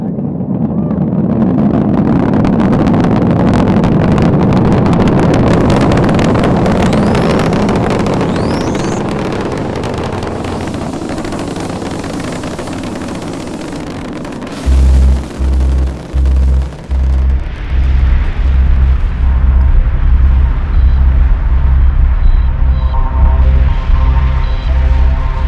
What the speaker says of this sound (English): Booster ignition and liftoff of Discovery.